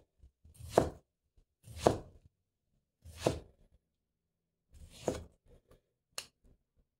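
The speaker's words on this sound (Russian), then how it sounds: "Помидор мне нужен кольцами, поэтому режу именно кольцами его." A Petty kitchen knife with an S grind and CPM S90V steel slices a tomato into rings on a board, making five crisp, evenly spaced cuts close up in a quiet room.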